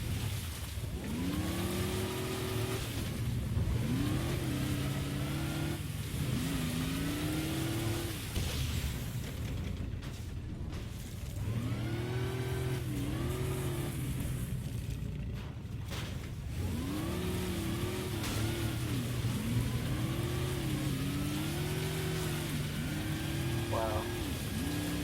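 Engine of a video game vehicle straining against gravity volumes in a custom Halo-style map: a steady droning motor that rises and falls in pitch over and over, with a voice talking beneath it.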